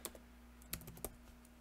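A few sharp, quiet key clicks on a computer keyboard as a command is typed, sparse taps over a low steady electrical hum.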